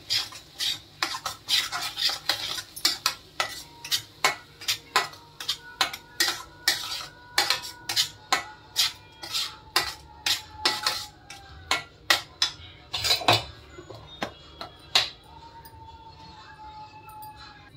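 Tomato puree stirred in a pan for paneer gravy, a run of rhythmic metal spoon clacks and scrapes against the pan over a faint sizzle, close and fairly quiet, with brief talk.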